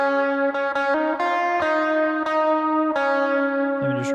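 Electric guitar lead riff played with a hammer-on, sustained notes picked one after another in a steady melodic line, with a brief string scrape near the end, alone and up close.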